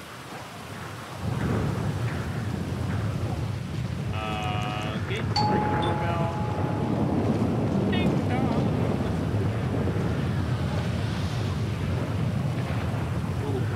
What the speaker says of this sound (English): Get up here and ring the doorbell.